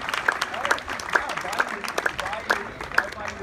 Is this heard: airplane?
no